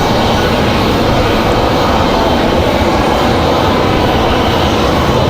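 A Delta CRJ regional jet on the move at Raleigh-Durham airport gives off a loud, close, continuous engine roar, dense and unbroken, with no voices present.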